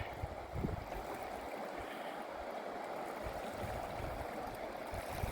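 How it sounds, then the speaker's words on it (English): Small rapids of melting ice water rush over rocks along a river in Alaska, a steady, close, broadband churning and gurgling that holds evenly throughout with no voices. "You hear the water, there's the rapids."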